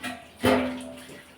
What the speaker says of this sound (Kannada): ಅಕ್ಕಿಗೆ ಸ್ವಲ್ಪ ನೀರು ಹಾಕಿ ಸಾಯಂಕಾಲವರೆಗೆ ಇಡ್ತೀನಿ